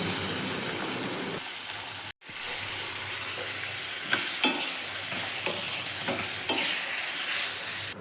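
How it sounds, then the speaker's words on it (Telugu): Green chillies and tomato pieces fry in oil for an Andhra-style chutney, a constant close sizzle with scraping stirs and occasional utensil clicks, no voices. "టమాటా ముక్కలు వేసిన తర్వాత బాగా కలపాలి"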